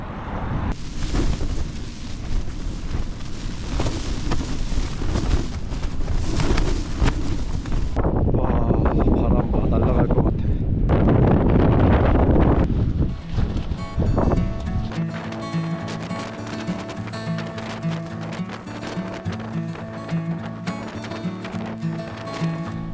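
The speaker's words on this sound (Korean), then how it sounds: "지금 밖에 바람이 엄청 불고 있습니다." Strong wind blows outdoors in Iceland. Gusty, rushing buffeting hits the microphone through the first half, then gives way to a steady musical passage.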